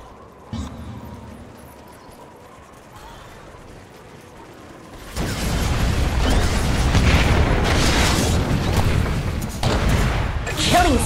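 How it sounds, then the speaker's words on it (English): Dota 2 tower under attack during a Shadow Fiend match: a dense, loud burst of clashing combat effects and mechanical clanks kicks in midway and keeps going steadily to the end, after a quieter opening. "Dire's top tower is under attack."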